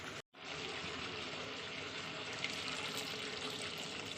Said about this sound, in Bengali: এবার অল্প করে দিয়ে দিচ্ছি গরম জল।